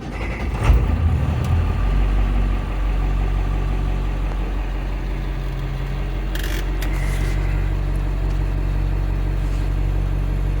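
A T444E diesel bus engine idles with a steady, low rumble close by. A sharper clatter comes near the start, and a few brief higher-pitched clicks break in partway through.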